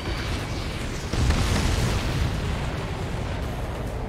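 Missile explosion in an aerial combat video game, a sustained roaring blast that swells about a second in and rumbles on heavily to the end, with no voices.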